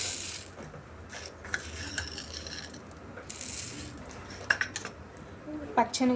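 Small clinks and scrapes of a measuring spoon against a steel container as dry moong and urad dal lentils are scooped out for a baby's porridge, several light metallic taps scattered over steady room noise.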